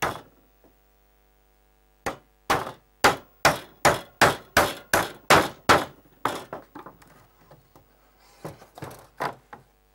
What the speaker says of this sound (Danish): Så skal der bankes og hammers.